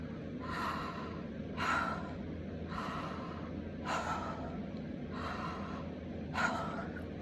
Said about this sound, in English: you want to take 3 deep, relaxing breaths